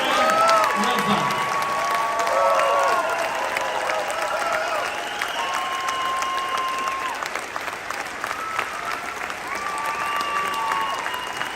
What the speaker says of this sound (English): I want you to give a standing applause, a good welcome to this platform to Ezra Levin.